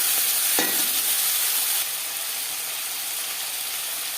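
Chopped tomatoes go into hot oil with fried cumin, dried red chilli and bay leaf, raising a loud, continuous hissing sizzle with a sharp crackle at the drop that then eases slightly.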